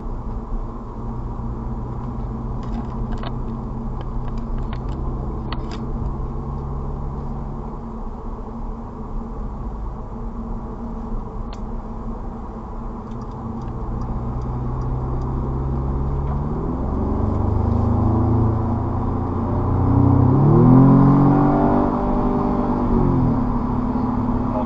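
An Audi accelerates onto a motorway, its engine rumble and tyre roar building steadily as it gathers speed, with gear-linked harmonics rising and falling near the end; no one speaks.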